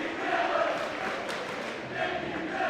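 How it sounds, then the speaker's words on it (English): The crowd in a high school basketball gym, Langley at Washington-Lee, roars in a sustained, dense wash of cheering and yelling that swells slightly at the start and end, with no clear single voice standing out. "The crowd's rocking. They're into it."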